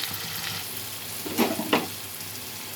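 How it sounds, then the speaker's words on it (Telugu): Chopped onions with a pinch of salt sizzle steadily in hot oil, frying alone with a couple of louder crackling bursts from stirring partway through. "ఆనియన్స్ వేసేసుకుందాం ఫ్రెండ్స్. కొంచెం ఉప్పు వేసుకొని వేయించుకుందాం"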